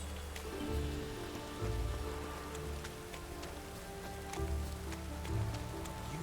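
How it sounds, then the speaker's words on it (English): Rain falling steadily in The Witcher 3 video game, a dense, even patter of drops with soft low rumbles rising and falling underneath, no voices. "Rains like this come sowing time."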